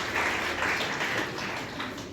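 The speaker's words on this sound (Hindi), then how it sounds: "मैं उनको भी ज़ोरदार तालियों से इस इवेंट में इस्तकबाल करता हूँ" Audience at a literary conference on a college campus gives steady, fairly faint applause to welcome a guest, a continuous patter of many hands heard from a distance.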